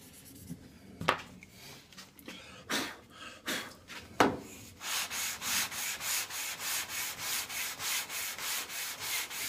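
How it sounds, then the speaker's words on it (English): Hand sanding on a guitar fret leveling beam with 220 grit aluminum oxide sandpaper tape: a few irregular rasping strokes, then a fast, even run of close, crisp back-and-forth scrapes. "220 grit aluminum oxide tape, sandpaper."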